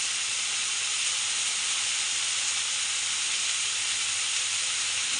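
Ghee sizzling hard in a hot pan while pongal is cooked, a loud, steady, unbroken hiss that fills the whole stretch without talk.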